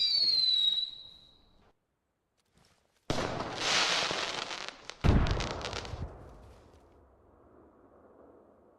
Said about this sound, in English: chuck a grenade over into the trees.